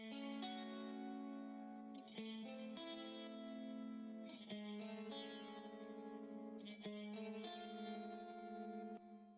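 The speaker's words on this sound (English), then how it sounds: "We have some clean chords." Clean chords on a Kiesel guitar played through a HyperRig, sustained with echo and reverb, changing every couple of seconds, quiet in the mix, with no talking.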